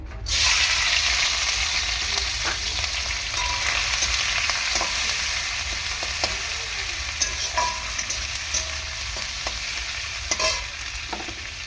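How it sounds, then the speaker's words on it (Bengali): Hot oil in a wok crackles with a steady, loud sizzle as cut prawns fry. Sharp clicks and scrapes of stirring recur throughout, and no voices are heard. "এরপর দেখো চিংড়ি মাছটা আমি দিয়ে দেব।"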